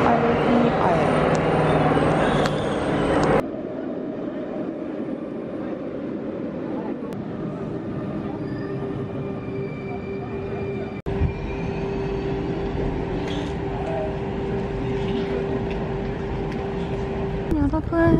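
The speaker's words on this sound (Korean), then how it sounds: "디즈니 가는 기차 타러 왔습니다" Train to Disneyland Paris rumbling steadily for the whole stretch, loud and close from inside the carriage, with a sharp change in tone early on and a sustained hum, plus a brief clunk near the end.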